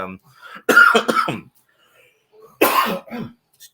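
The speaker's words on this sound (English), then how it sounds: "that was that little cough I was talking about earlier" Two separate bursts of coughing, close and fairly loud, with a quiet pause between them.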